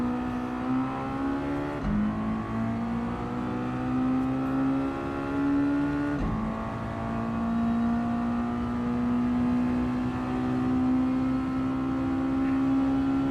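A race car engine in Gran Turismo 7 drones steadily at high revs, dropping pitch sharply at two gear shifts before climbing again, loud and continuous with no talk over it.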